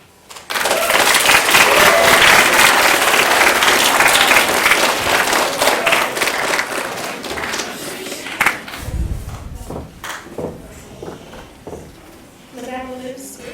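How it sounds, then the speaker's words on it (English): An audience at a school capstone presentation breaks into loud, dense applause that holds strong for several seconds, then thins out into scattered claps and rustling, with a few voices near the end. "I'd like to give you an opportunity to stand up for one more round of applause"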